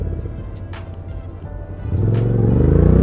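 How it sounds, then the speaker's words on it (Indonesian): A big automatic motorcycle engine rumbles at a low idle nearby, then revs up sharply near the two-second mark into a louder, throatier roar that holds to the end. "Dan motor ini juga memiliki suara yang unik juga."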